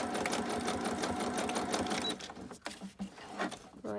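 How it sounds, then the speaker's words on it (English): A sewing machine stitches a simple fabric cover for a junk journal with a steady, fast whirring run, then stops and gives way to a few short clicks and handling noises. "I'm just going to stitch up here"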